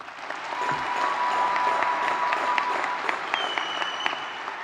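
A crowd applauds the top 10% graduating students at a 2019 New Diana ISD high school graduation ceremony, sustained and even clapping that sounds somewhat distant in a large hall, with no speech over it.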